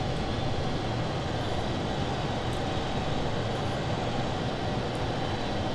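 A steady, loud, unbroken engine roar from an Avro Vulcan jet bomber in a flight simulator game, holding constant throughout with no talk.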